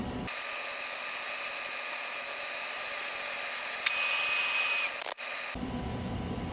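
Small drill boring a hole for a dowel pin with a 0.089 bit while building a DIY wire bender for fishing lures, a steady high-pitched whine running continuously for several seconds, close and alone, then cutting off abruptly.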